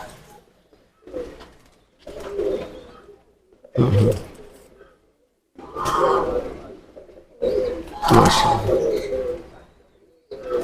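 Pigeons, including a female bird, coo close by in repeated low throaty bursts with short pauses between phrases, fairly loud and without talk.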